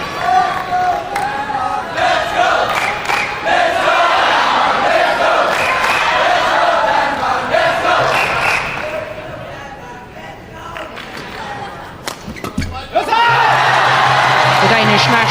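Danish national junior squads cheer and shout in a loud, dense crowd roar at the 2005 All England badminton men's doubles final. The noise holds steady, dips briefly, then swells again with sharp claps and whoops.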